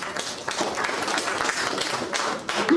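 An audience claps steadily throughout at a guru puja gathering at the Kailasa Tapovanam on Chenganatham hill. The applause is dense and continuous, with faint voices underneath.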